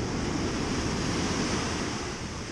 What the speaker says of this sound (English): Very angry waves.